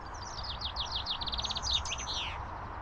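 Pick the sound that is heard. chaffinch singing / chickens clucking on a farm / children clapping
chaffinch singing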